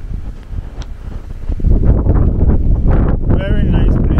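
Gusty wind in East Legon, Accra, buffets the microphone as a steady low roar that swells louder midway, with some talk and a brief tonal chirp near the end.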